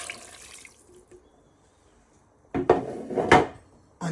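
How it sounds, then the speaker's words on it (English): Stock poured into a pan of softened mushrooms for wild rice soup, a short liquid splash and gurgle after a quiet start, then a second pouring burst that fades out. "Now you want to pour in all your stock."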